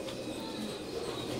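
Adult Oman bloodline teddy pigeons coo softly in a brief, faint stretch of low murmuring calls with no talk.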